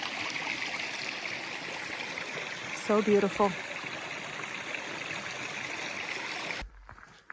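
Steady rushing of Agua Caliente Creek in California fills the background, with a brief spoken remark in the middle before the sound cuts off.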